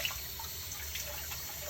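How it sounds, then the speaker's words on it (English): Cool running water rinses kefir grains after old milk is poured off, a steady broadband tap stream splashing continuously and fairly close, with no talk. "I rinse it in cool water"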